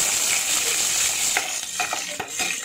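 Curry leaves and dried red chillies frying in hot oil as a tempering for drumstick pappucharu: a bright, continuous sizzle with a few close spoon scrapes and clinks toward the end.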